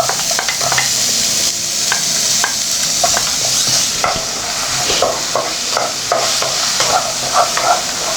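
Vegetables, potatoes among them, fry in a pan while being stirred, a loud close sizzle broken by repeated scraping and clattering utensil strokes at an irregular pace, with no talking.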